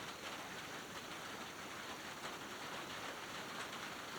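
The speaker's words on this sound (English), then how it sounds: "Here comes the rain." Steady rain pattering on a pavilion roof overhead, a dense continuous hiss of drops with no voices, even and unbroken throughout.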